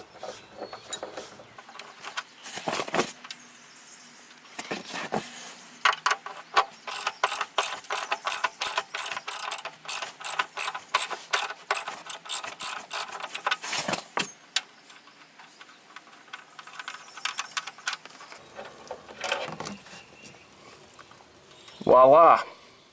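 A hand wrench working loose the 13mm oil drain bolt on a 1996 Buick Roadmaster station wagon, a long run of rapid metallic ratcheting clicks up close, with pauses and someone talking at points.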